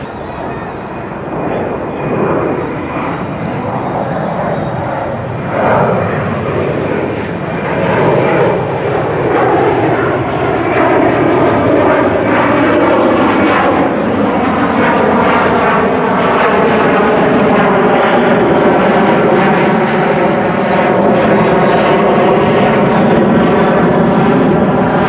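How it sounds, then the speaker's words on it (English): An airplane passes over Citi Field stadium, its engine drone building to a loud, sustained roar with a slowly shifting pitch that lasts the whole stretch. "Right now I'm out here at CitiField, and you can see there's a plane that's"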